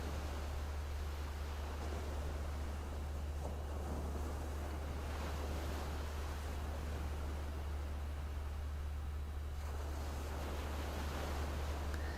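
Ocean waves wash continuously in a steady, moderately loud surf roar under constant low wind-like hum, swelling slightly in places, with no voices present.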